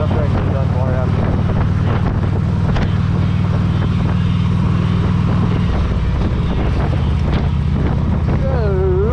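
Steady road noise from a car moving along Highway 42, a low continuous engine and tire drone with wind buffeting, loud and close from inside the vehicle.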